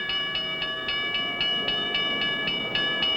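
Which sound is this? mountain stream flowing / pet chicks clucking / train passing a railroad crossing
train passing a railroad crossing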